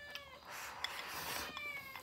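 A small kitten meows faintly a few times in short high cries over a quiet background.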